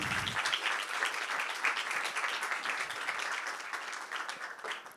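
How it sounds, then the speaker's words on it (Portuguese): Steady applause from an audience at a book fair talk fills the room, dense clapping sustained for several seconds at an even level. "Palmas para a Luciana"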